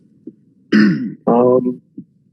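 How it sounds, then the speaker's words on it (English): Two close, harsh coughs from a person in quick succession, bracketed by soft throat sounds in an otherwise quiet room. "Sorry, I keep coughing."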